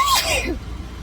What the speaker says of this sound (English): I didn't even get an opportunity to cover my mouth